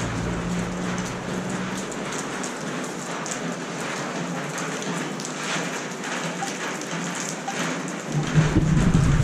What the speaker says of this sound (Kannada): ಆ ಹೆವಿ ಸ್ನೋಫಾಲ್ ಆಗೋ ಕಾರಣ ಈ ಲೊಕೇಶನಲ್ಲಿ ಮಳೆ ಬರ್ತಾ ಉಂಟು